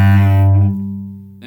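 A bowed string instrument holds a low note at the end of a one-octave major scale in first position, slightly flat from cramped fingers, a sustained bowed tone that thins and fades, close and solo.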